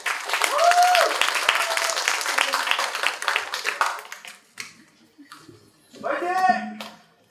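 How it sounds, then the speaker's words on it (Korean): Applause from the audience at a Seoul blockchain meet-up for the LIOS platform, as a presenter is welcomed to the stage; clapping fills the first few seconds, then thins out, with a voice and a brief renewed burst near the end. "큰 박수 부탁드립니다"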